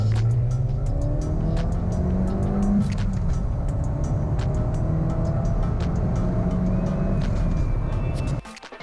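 A 2015 Ford Fiesta ST with a stage 1 tune accelerates hard from 30 to 70 mph, the engine note rising steadily through the gears in loud interior drone with brief shift dips, then cutting off near the end; no talk.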